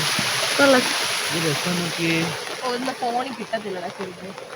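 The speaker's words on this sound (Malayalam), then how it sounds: "നമ്മൾ ജർമ്മനിയിലെ ഒരു ചെറിയ വെള്ളച്ചാട്ടം കണ്ടുപിടിച്ചു" Steady rushing water from a small waterfall in Germany fills the background while a person talks over it, in the rain.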